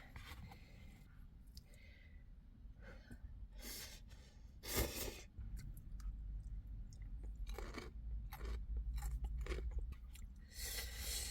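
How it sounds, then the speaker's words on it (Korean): Cup ramen noodles being eaten as breakfast while car camping in a convenience store lot in Anseong, with crunchy chewing and slurping bites recurring at close range, no talking. "오늘 아침은 컵라면 먹겠습니다."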